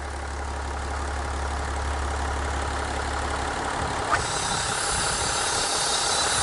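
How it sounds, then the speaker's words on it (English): A diesel car engine idles during an air intake cleaning treatment, giving a steady low rumbling hum with a faint rhythmic knock. Partway through, the low drone drops away and a broader hiss takes over at a similar moderate level. "So here we have the engine on idle, same again."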